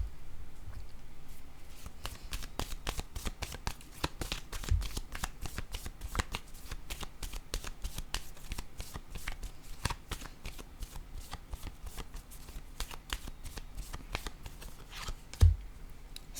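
Tarot-style reading cards shuffled and flicked down one after another in a steady, rapid patter of crisp card snaps, close by and moderately quiet, with one sharper knock near the end and no talking.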